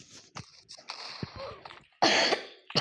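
A person coughs several times in short harsh bursts, close and fairly loud, with a final stronger double cough near the end and a quiet pause between.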